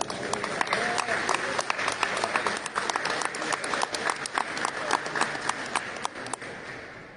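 Audience at an official reception applauds an award-winning artisan. Moderate, uneven clapping comes from a smaller group, with distinct individual claps popping out of the steady patter.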